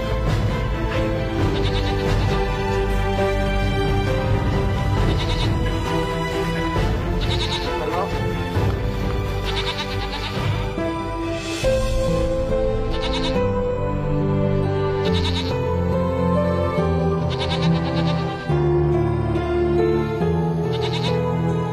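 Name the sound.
goats bleating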